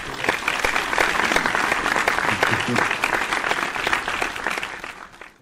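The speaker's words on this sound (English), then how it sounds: "let me give you another round of applause." Sustained applause from an audience, dense clapping that fades near the end.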